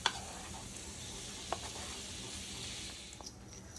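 Saltfish frying in a pan with parsley and scallion, cooked as the base for a cornmeal fungi meal, gives a soft, steady sizzle with a few faint stirring clicks and no talk.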